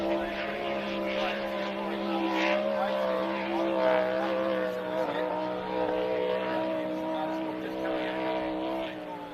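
A racing motorboat coming off the southern end of the course onto the St George Motorboat Club, its engine a steady, sustained drone under continuous talk from a race commentator.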